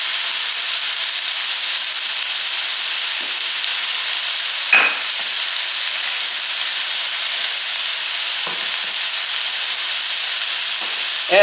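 Vegetable paella is stirred in a hot pan, with a loud, steady sizzling hiss and a few soft scraping knocks from the spoon against the pan.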